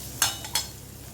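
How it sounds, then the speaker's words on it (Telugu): Onions seasoned with salt and turmeric fry in a pan under a faint, steady sizzle, broken by two short, sharp stirring scrapes close by. "ఆనియన్స్ అవి వేగిపోయండి."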